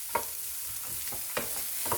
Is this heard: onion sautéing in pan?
yes